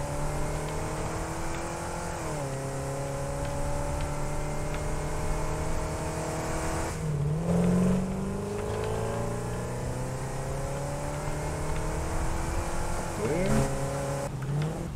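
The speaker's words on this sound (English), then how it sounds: "drifting in this thing has become my new favorite pastime" Engine of a vehicle being driven and drifted in the video game Satisfactory, a steady droning hum that shifts pitch as it revs and slides, with a voice talking over it throughout.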